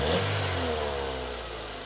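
A Ford Fiesta engine revs up close by, a single quick rise in pitch that holds for under two seconds and then settles with a steady mechanical clatter.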